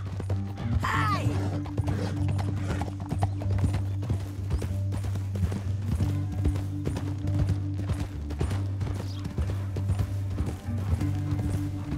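Hooves clop steadily and quickly over a loud, constant low rumble, like horses moving at pace, with a brief whinny early on, in the video game Red Dead Redemption 2.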